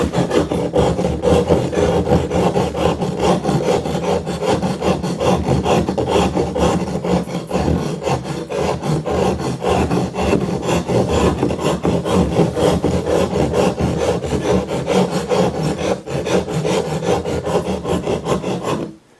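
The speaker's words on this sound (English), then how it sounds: "double cut rasp is going to give you an advantage." A double-cut rasp files a plaster sculpture in a loud, continuous, coarse scraping that runs steadily for nearly twenty seconds before stopping abruptly.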